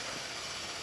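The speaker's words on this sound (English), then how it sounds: "Nice strong steam." A Rocket Appartamento espresso machine, just serviced, releases a strong, steady hiss from its steam wand, loud and continuous throughout with no talk.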